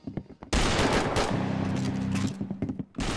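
Rapid gunfire in the Roblox game Arsenal, a loud burst of sustained automatic shots lasting about two seconds, framed by a few brief sharp cracks before and after.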